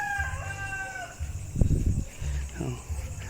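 A rooster crows, with chickens clucking in low bursts between calls, close by and fairly loud.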